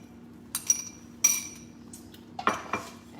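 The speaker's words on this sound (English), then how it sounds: "And we're going to stir that up" A spoon clinks and scrapes against a pan while vegetable pie filling thickened with cornflour is stirred, giving a few sharp, close metallic taps spaced irregularly over a quiet background.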